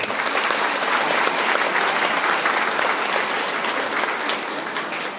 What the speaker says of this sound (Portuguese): Mais umas palmas que ele gosta.